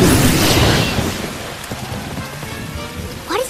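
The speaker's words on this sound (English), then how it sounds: "Rain pours in the living room." Rain pours down inside a living room in a cartoon, a loud rushing downpour with a rumbling boom at the start that thins to scattered drips and splashes before a brief rising whoosh.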